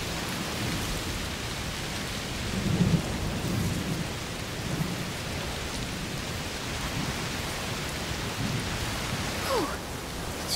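Thunderstorm with steady heavy rain in A Plague Tale: Requiem, a dense continuous downpour with a low rumble of thunder swelling briefly near the start, no speech.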